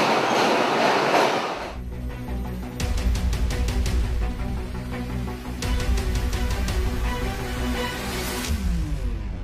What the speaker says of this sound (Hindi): इस वक्त हम लाहौर रेलवे स्टेशन पर मौजूद हैं